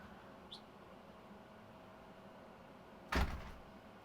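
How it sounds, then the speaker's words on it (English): Noisy door closing with a short, sharp sliding thud and rattle that fades quickly, preceded by a faint high squeak, in an otherwise quiet room. "I know, the door is noisy."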